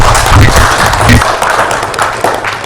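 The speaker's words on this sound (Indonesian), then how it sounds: "tepuk tangan dulu." Classroom audience clapping after a class presentation, a short burst of mixed hand claps close by that thins out within a few seconds.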